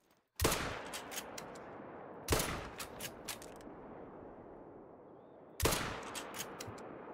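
Three loud gunshots from a hunting rifle in Call of the Wild while hunting the creeks of New England, each a sharp crack followed by rolling echoing decay, spaced a couple of seconds apart.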